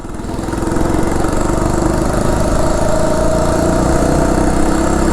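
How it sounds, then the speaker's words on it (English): A small two-stroke engine on a Phatmoto motorized bike buzzes loudly and steadily, a raspy high-revving drone like a lawnmower or weed eater, running close by throughout. "I love that my bike sounds like his weed eater."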